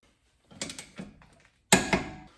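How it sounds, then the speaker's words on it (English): A torque wrench tightening a rear suspension bolt on a Mustang, giving a few short, close mechanical clicks and creaks in two small bursts, faint, with no talk. "And this will get torqued to 85 pound-feet."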